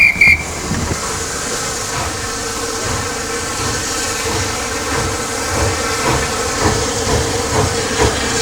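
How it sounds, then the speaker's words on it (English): A departing steam train gives off a steady, loud hiss of steam over a rumbling, rhythmic churn of wheels and machinery, continuous and close throughout. "There's something especially British about steam trains."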